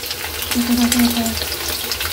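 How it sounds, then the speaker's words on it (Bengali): Paneer pieces frying in hot oil give a steady, dense sizzle with a brief low tonal hum partway through, close by and without talk. "এখন এই যে পনির ভাজা চলছে"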